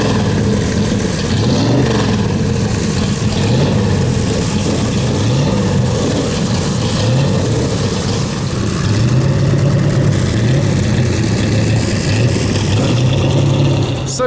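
A 1972 DBS Pantera upgraded to GT5 form, at a classic car event at Silverstone, with its engine running in a deep rumble that rises and falls through revs as it pulls away, loud and close, with voices faintly underneath.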